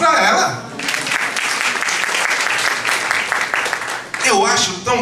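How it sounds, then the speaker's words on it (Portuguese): Audience applause at a discussion circle on adoption law, a dense burst of clapping that fills most of the moment, with a voice talking briefly before it starts and again as it ends. "Palmas para ela."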